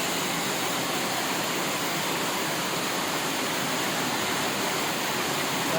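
Heavy rain pours down outdoors as a dense, steady, broadband hiss at constant volume with no breaks. The sound is close and enveloping, and no voices are heard.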